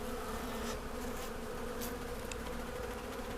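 Swarm of bees humming steadily from a hive inside a brick wall during a removal in Pasadena, Texas, a dense continuous buzz with no one speaking.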